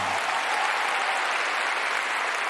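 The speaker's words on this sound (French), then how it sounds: "Beaucoup d'applaudissements, s'il vous plaît, pour Yulia Lipnitskaïa." A skating arena audience applauds figure skater Yulia Lipnitskaya at an exhibition, a loud, dense, continuous wash of clapping from a large crowd.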